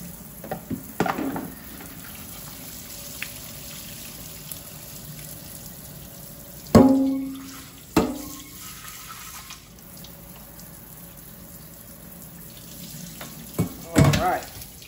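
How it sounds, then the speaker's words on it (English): Cooked macaroni drained in a kitchen sink: water pours and splashes in short bursts with clattering of the pot and colander against the basin, near and moderately loud amid quieter pauses. "Drain this macaroni"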